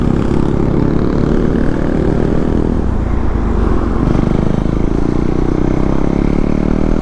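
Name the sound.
MT-09 motorcycle engine passing fast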